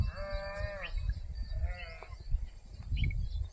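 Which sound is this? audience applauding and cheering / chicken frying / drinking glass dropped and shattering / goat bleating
goat bleating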